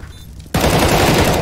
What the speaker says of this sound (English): I shot him like 30 times.